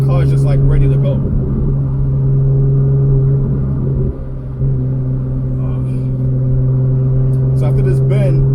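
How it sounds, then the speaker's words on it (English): A Porsche 911 GT2 with a turbocharged flat-six drones loudly and steadily from inside the cabin, engine hum holding nearly constant with a brief dip midway, while someone talks over it. "I'm gonna hit full throttle so you guys can hear how this car runs."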